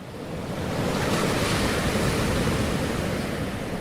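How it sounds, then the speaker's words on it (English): Pacific Ocean surf on the Washington State coast, big whitecaps crashing in near sea stacks: a loud, continuous roar of breaking waves with wind buffeting the microphone, steady throughout with no voices. "Big whitecaps crashing in and sea stacks behind."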